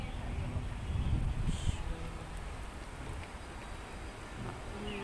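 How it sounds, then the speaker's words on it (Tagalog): Steady typhoon rain hisses over a dark outdoor street scene, a dense constant wash with a brief louder rustle near the start and faint surrounding noise. "May typhoon kasi dito guys, kaya maulan"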